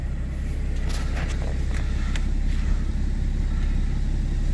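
An '82 Ford Granada engine idles in a steady low rumble after choke adjustment, close and continuous, with a few faint clicks on top and no talking.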